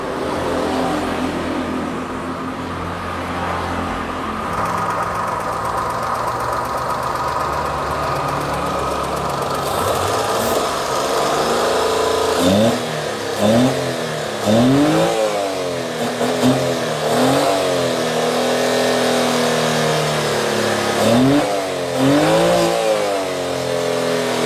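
A Daihatsu Xenia engine with a heavily smoking exhaust idles steadily, then revs repeatedly in rising and falling bursts, loud and close.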